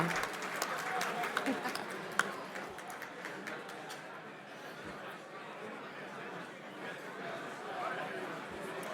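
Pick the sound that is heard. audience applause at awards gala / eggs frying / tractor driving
audience applause at awards gala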